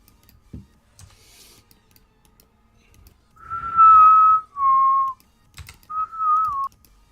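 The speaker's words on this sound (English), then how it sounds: "Who's whistling? Sorry, that's me." A person whistles a few short sustained notes nearby in a quiet room, with light keyboard clicks and tapping before the whistling.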